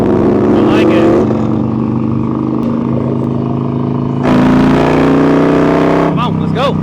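A motorcycle being ridden gives a steady, loud engine drone with a rise in revs partway through, while someone talks over it.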